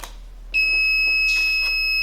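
An ESP32 buzzer switched on by an RFID card gives a sudden, loud, steady high-pitched electronic tone that starts cleanly after a short quiet moment and keeps sounding without a break.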